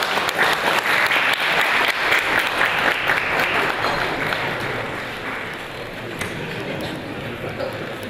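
Audience applause fills the hall at the ninth annual charity ball: a loud, dense wash of clapping that holds steady and then gradually thins and softens.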